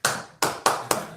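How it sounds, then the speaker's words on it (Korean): An audience at a church Sunday sermon claps in unison, giving four sharp, loud claps in close succession with short gaps, no talking. "저 이럴 때 학교에서는 그냥 박수 한 번만 쳐주세요."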